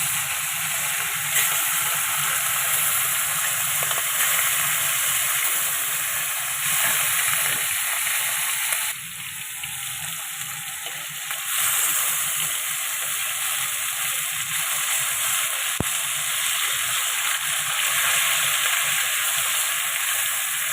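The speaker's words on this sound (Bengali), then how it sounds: "এই মাছগুলো ভাজা হয়ে" Fish fries in a pan with a continuous, close hissing sizzle that lasts about twenty seconds. The sizzle dips briefly in the middle and is otherwise uninterrupted, with no talking.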